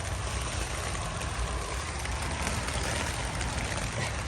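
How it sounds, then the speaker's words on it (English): A waterfall in the woods of the Scottish Highlands gives a continuous, even rushing roar that fills the whole stretch without pause, with no voices heard. "There's a waterfall up there."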